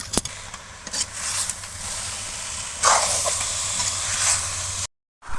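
Carrot halwa cooks in a pan with ghee and coconut, giving a steady hissing sizzle with stirring surges, a sharp knock at the start, then an abrupt cut to silence near the end; no talk.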